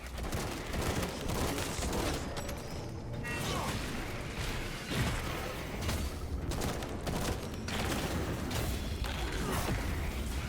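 Dense, continuous video game battle din with rapid booming cannon blasts and mechanical clatter, loud throughout, with a faint voice underneath.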